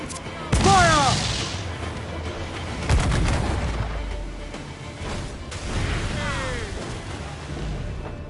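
Cannon fire from pirate ship guns in Assassin's Creed 4: Black Flag, with loud booming blasts near the start and around the three-second mark, followed by rumbling and whistling projectiles, with shouted voices in the mix.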